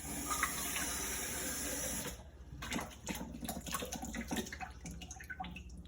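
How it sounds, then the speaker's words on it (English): Tap water running from a home sink faucet on well water into a container for rehydrating sourdough starter flakes, a steady close hiss that drops off around two seconds, leaving lighter splashing and trickling. "And I just use my sink water."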